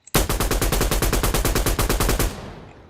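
Rapid automatic fire from a G3 rifle in the shooter game Firefight, roughly twenty evenly spaced loud shots in a steady burst lasting about two seconds, then a short ringing tail, with no voices.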